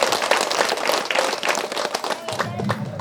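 Audience at a pyramid meditation centre's eighth anniversary function in a village applauding, with a dense, fairly close patter of many hands clapping steadily, and a voice rising beneath near the end.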